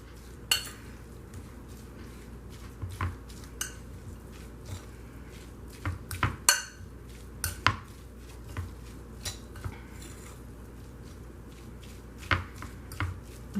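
Salmon cake mixture with the bones left in is mashed in a bowl, heard as repeated close clinks and soft squishing scrapes of a utensil against the bowl, irregular and fairly loud, with no talking.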